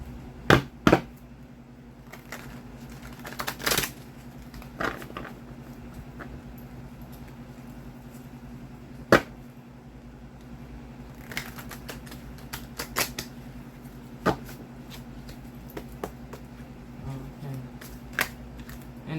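A deck of tarot cards shuffled with scattered sharp card slaps and riffles, close by, spread irregularly over a steady low hum, with a few louder snaps standing out.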